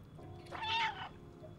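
A single cat meow from the Stray video game, one short clear call heard alone at moderate loudness.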